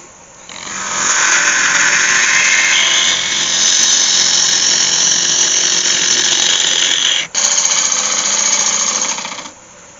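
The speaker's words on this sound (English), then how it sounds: "I'll just take a clean up cut, get a sharp chisel" Sharp chisel taking a clean-up cut on a yew lidded box spinning on a wood lathe: a loud, steady, hissing tool-on-wood rasp lasting about nine seconds, with one brief dropout near the end and no talking.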